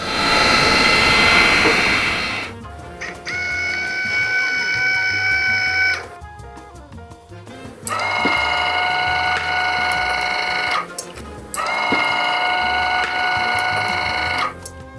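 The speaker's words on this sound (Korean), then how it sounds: "박스를 다시 만들고 정역 버튼을 사용해서 액추에이터를 구동해 봅니다." Linear actuator on a band saw upgrade, driven back and forth with a forward/reverse switch: a loud, steady motor whine in several runs of about two to four seconds, separated by brief pauses, with no talk.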